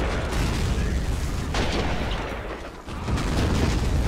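Artillery fire in the World War battle game Men of War during a trench-line defence, a dense wash of rumbling booms and bursts with a few sharper blasts standing out, loud and continuous, with no voices.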